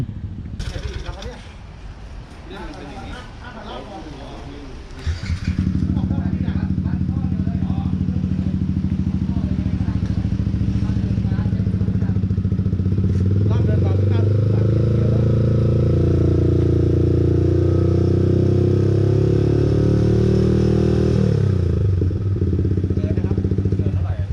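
Voices talk at first, then a Yamaha XSR155 motorcycle engine with stock exhaust starts and idles loudly nearby with a steady, rumbling drone and slight revs.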